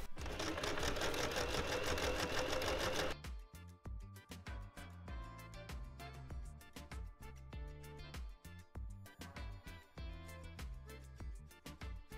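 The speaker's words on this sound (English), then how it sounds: "I'm going to zigzag stitch it to secure it" A sewing machine zigzag stitches fabric for a garment, first a fast dense mechanical whirr, then slower rhythmic thumping stitches in close, steady bursts.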